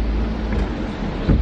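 Heavy rain falls steadily in Seoul, a dense broadband wash with some wind rumble and a brief louder gust or thump near the end, with no talking.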